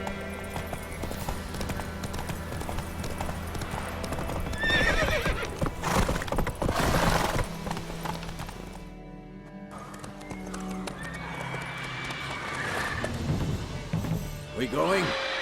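A horse gallops and neighs in The Witcher 3 video game, with rhythmic hoofbeat clip-clop, loud whinnies and crashing game sound effects layered over music, rising and falling in intensity.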